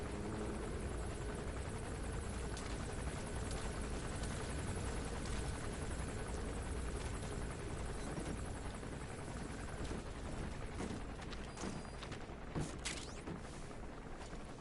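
A helicopter in Metal Gear Solid V: The Phantom Pain gives a continuous, loud rotor thrum and engine whine that holds steady, with a few sharper mechanical clatters toward the end and no voices.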